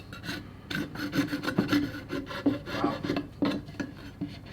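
White oak wood scraped by a rasp into shavings, with repeated quick rough rasping strokes close up in an irregular rhythm, and a brief spoken exclamation.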